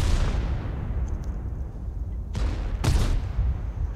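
Heavy tank cannon shots in a World of Tanks-style video game battle, two sharp booming blasts fired a moment apart over a steady low rumble of engine and battle noise.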